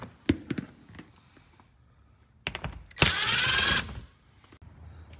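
A ratchet works on the oil filter cover bolts under a Lexus RCF: scattered metallic clicks, then a dense buzzing run of rapid clicks lasting nearly a second, followed by a few softer ticks, close and clear.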